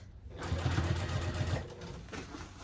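A sewing machine runs a short burst along the bottom seam of a tote bag, a fast rhythmic close chatter for about a second, then quieter handling afterward.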